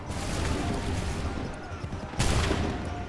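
Soldiers fire a musket volley in an Assassin's Creed 3 battle, with a sustained crackle of massed shots followed by a second sharp loud burst near the end.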